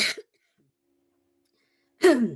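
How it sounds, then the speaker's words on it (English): A person coughs or clears their throat twice, close and brief, with a silent pause between the two bursts. "it's not good to cough nowadays."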